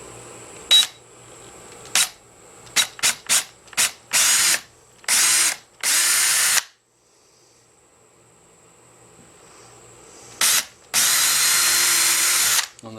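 A power drill bores pilot holes for door lock screws in short, loud bursts, some quick stutters and a few longer runs, separated by pauses and a stretch of near silence.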